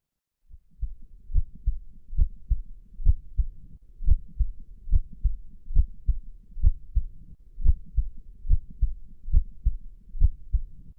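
A steady, close heartbeat plays on its own at a relaxed pace in a quiet ASMR setting, its soft thumps repeating evenly for the whole stretch with no talking.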